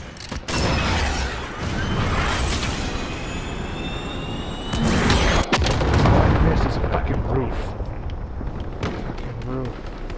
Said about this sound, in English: ready to launch. cruise missile. Go for fire lock control.